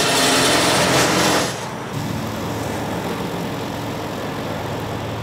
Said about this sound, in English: Now I'm struck just by how quiet this mower is.